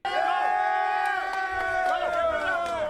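A crowd at a rap battle shouts loudly in near-unison, with cheering voices sustained across the moment and no other sound standing out.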